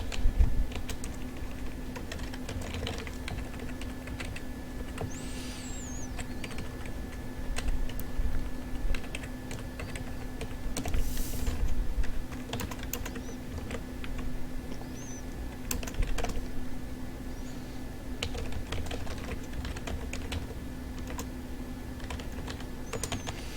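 Someone types steadily on a computer keyboard while programming, with close, continuous clicking keystrokes in irregular bursts over a faint steady hum, and no talking.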